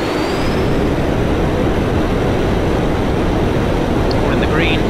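Fast jet engine spooling up on the runway threshold at RAF Coningsby before takeoff, a loud, steady broadband roar filling the whole stretch with a rising whine and no gaps.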